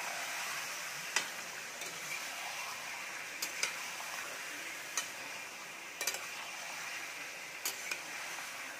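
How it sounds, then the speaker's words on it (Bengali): Chicken pieces frying in a kadai, a faint, steady sizzle with occasional sharp ticks and clinks of a utensil against the pan, quiet and close with no talking. "চিকেনটা একটু লাল লাল করে ভেজে নেব।"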